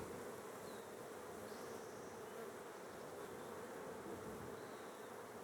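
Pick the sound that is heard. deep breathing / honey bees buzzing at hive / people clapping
honey bees buzzing at hive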